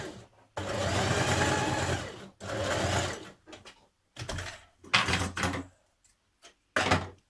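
A domestic sewing machine stitches trouser pieces for a Simplicity 8056 pattern, running in several loud bursts of rapid mechanical whirring separated by short pauses and quieter handling clicks, with no talking.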